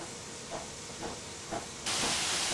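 Steam hissing from the over-pressured boiler of a Merchant Navy Class steam locomotive in Train Simulator, a soft hiss with faint rhythmic chuffs that swells into a loud, sustained blast of venting steam near the end.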